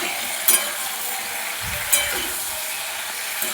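Flat beans and eggplant with salt and turmeric sizzle steadily in a pan while a utensil stirs them, with a couple of sharp scrapes and clinks against the metal.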